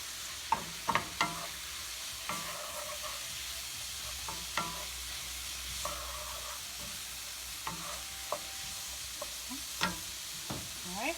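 Mushrooms and vegetables for fajitas sizzle and fry in a pan, with steady crackling broken by frequent clicks and scrapes of a utensil stirring them, close and fairly quiet throughout.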